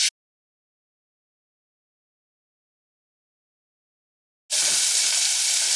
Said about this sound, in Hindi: एक पैन लेंगे, उसमें अब आप डालेंगे यहाँ पर मक्खन